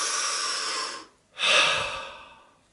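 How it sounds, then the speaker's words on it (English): A single deep breath drawn in and slowly let out, close and clear, with a brief pause in the middle and a soft trailing exhale. "Even now, like I just had a breath."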